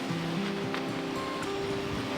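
Sea waves washing on a coastline, a soft continuous surf wash heard faintly at a distance with a low background rumble.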